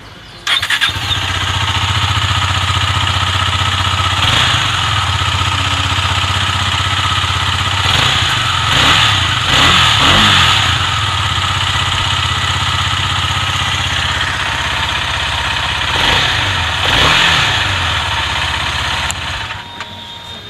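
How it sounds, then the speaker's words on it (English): Exhaust note of a Husqvarna Svartpilen 250 motorcycle. The engine starts, then idles loudly and steadily close by. Several quick throttle blips rise and fall along the way, and it cuts off at the end. "Let's check out the SWAT Pilot 250's exhaust note now."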